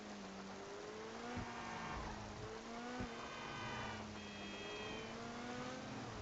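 A racy hypercar-style engine in a driving video game drones steadily, its pitch climbing and dropping through several shifts with a sharp bark and faint tire noise, loud and close with no talk.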